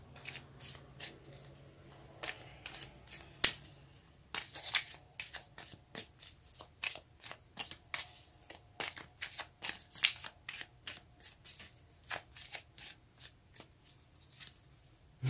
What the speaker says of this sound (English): now let's get a card for your potential future